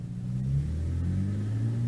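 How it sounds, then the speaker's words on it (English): A BMW 328i with an inline-six and full bolt-ons rumbles and pulls under acceleration from inside the cabin, a low steady engine drone with a faint whine and no talk. "You hear the turbo?"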